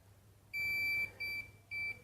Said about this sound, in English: It will beep if it doesn't have contact